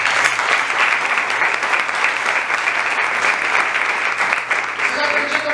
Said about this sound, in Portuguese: Salve de palmas para ela.